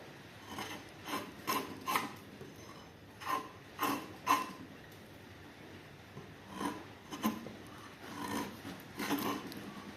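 A Motorush draw knife shaving wood with a series of close, rasping pull strokes, each a short scraping burst, coming in rhythmic clusters with brief pauses between them and no one talking.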